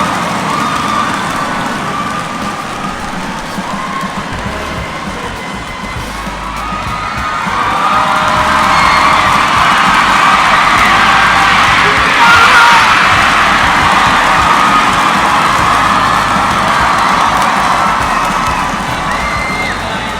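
Indonesian badminton fans roaring at Istora arena in support of Loh Kean Yew and Chou, a huge sustained crowd din that swells louder partway through and stays dense to the end.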